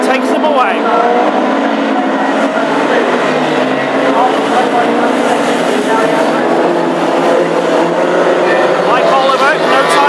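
Classic hot rod race cars roar away together at the green flag start of a heat at Hednesford, a loud continuous blend of engines accelerating past, with a commentator talking over the noise throughout.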